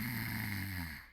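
A man gives a long, rumbling imitation of a loud, deep snore, one drawn-out throaty rasp heard up close that tapers off at the end.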